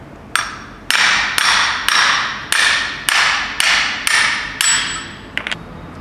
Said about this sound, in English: in the process of taking this, hammering this bearing out, we damaged it